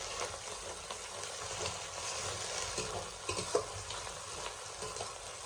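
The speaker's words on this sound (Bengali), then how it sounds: "মশলাটা একটু ভেজে নিয়েছি" Spice paste with green chili frying in a pan, giving a steady close sizzle with occasional stirring scrapes and small pops throughout.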